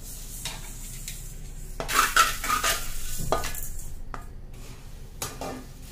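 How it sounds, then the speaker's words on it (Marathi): A metal spatula stirs rice and roasted ingredients on a hot iron griddle, with scraping and clinking strokes at an uneven rhythm and a light sizzle underneath, close and fairly quiet with no talking. "हे आपण या तांदळातच आता हे सगळं आपण भाजून ठेवलेलं मिक्स करूया."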